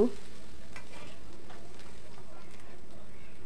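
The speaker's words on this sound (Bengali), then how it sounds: "এদিক দিয়ে আমি রসুন পেঁয়াজ কেটে নিয়েছি, এগুলোকে এখন আমি ভালো করে ভেজে নিব।" Chopped garlic and onion frying in a pan with a steady, even sizzle and faint stirring scrapes throughout, close and moderately loud.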